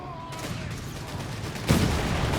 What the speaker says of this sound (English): Got sappers there being splattered with heavy fire there from the Italian forces.